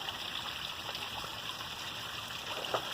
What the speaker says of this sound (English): right back here where the water is dropping, right behind that, there's the hole